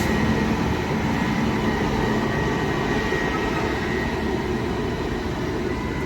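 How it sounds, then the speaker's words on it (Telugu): Rayalaseema Express train at Adoni railway station, a continuous loud rumble with a steady hum, close and unbroken, no voices. "అదోని రైల్వే స్టేషన్లో అయితే మనకి ఇంకో రాయలసీమ ఎక్స్ప్రెస్ అయితే కనబడింది"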